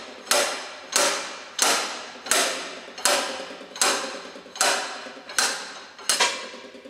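Rhythmic metal hammer blows, about nine evenly spaced sharp strikes each ringing out briefly, as a welded nut-and-bolt puller draws a plug from a bogie bearing, close and loud with no talk.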